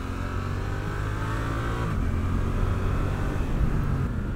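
An 800cc Suzuki GSX-8S parallel-twin motorcycle with quick shifter accelerates, its engine drone loud and steady with a slight pitch change near the middle, no voices.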